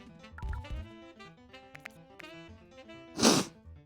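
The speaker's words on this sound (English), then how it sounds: "I have to sneeze." One sharp, loud sneeze bursts out near the end, standing out over soft, plinking game music that runs underneath.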